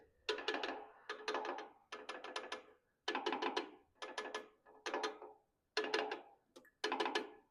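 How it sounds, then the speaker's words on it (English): A ratchet wrench tightens bolts on a tractor cylinder head, eight quick bursts of rapid clicking in a steady rhythm, close and fairly quiet, with brief pauses between strokes. "And then tighten up the locking bolt."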